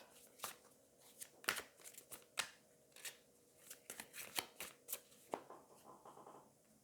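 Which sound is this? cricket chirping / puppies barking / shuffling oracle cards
shuffling oracle cards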